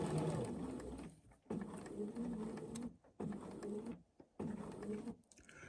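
A sewing machine stitches a pin tuck in several bursts separated by brief pauses, each run steady and close, with faint handling noise in between.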